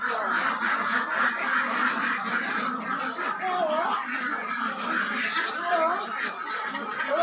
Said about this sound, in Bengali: আমাদের এই হাঁসগুলো হচ্ছে অরিজিনাল খাকি ক্যাম্বেল হাঁস